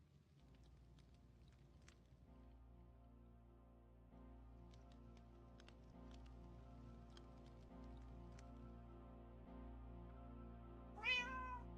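A single cat meow rises near the end over a steady, low ambient drone from Minecraft with faint scattered clicks.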